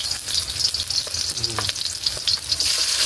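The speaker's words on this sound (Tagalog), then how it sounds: "magsimula tayong magisa ng sibuyas" Onion sautéing in a pan, an even crackling sizzle with intermittent scraping and light clinks of a spatula, fairly close and with no talking.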